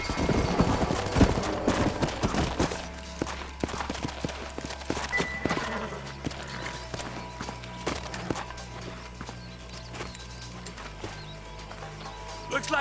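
Horses clip-clopping on foot through the Red Dead Redemption video game, irregular hoofbeats close by with a low game ambience beneath and a brief whinny-like touch, no talk over them.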